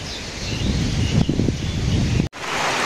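Strong gusting wind sweeps across an open outdoor spot as dark clouds gather before rain, a steady broadband roar with rustling that swells and peaks briefly midway, then cuts out for an instant before resuming.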